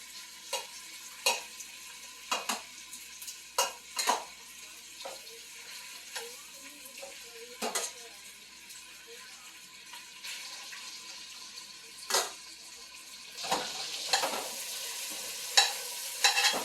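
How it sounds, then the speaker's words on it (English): Seasoned chicken pieces searing in olive oil in a pot, browning on both sides, make a quiet, continuous sizzle broken by sharp stirring and scraping clatters at irregular intervals, with no voices. "sear them off in the pot. And just in olive oil, just to brown the skins on both sides"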